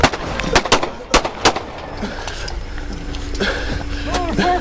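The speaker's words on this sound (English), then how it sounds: "shots fired." Several sharp, loud gunshots ring out during a police traffic stop, spread across the first second and a half, then give way to tense background noise and voices.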